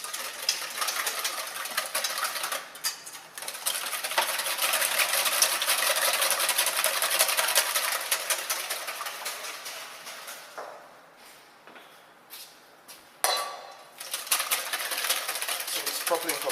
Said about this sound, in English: And then we whisk all that together. Just really whisk it till it comes together.